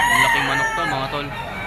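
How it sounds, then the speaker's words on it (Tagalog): A large round-head gamecock at a fowl market in Lipa, Batangas crows loudly and close, with clucking and other chickens mixed in around it. "Ang laking manok to mga tol."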